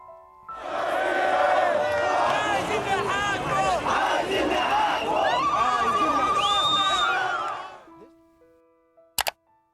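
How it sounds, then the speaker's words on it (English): A large crowd of protesters in Cairo roars and cheers jubilantly, dense shouting and whistling sustained loudly for about eight seconds before cutting off, followed by a couple of sharp clicks. "The announcement was met with jubilation among the crowds of protesters in Cairo."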